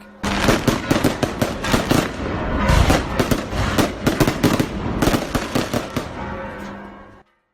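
Fireworks celebrating Allende's birthday in San Miguel de Allende, Mexico: a loud, dense run of rapid crackling bangs and pops that swells and thins over several seconds, then cuts off abruptly.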